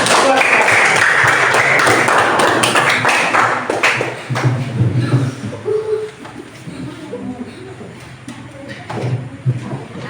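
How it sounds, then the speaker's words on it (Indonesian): Classroom of students applauding, a loud burst of dense clapping up front that fades over several seconds into scattered claps, chatter and laughter. "Tepuk tangan semuanya."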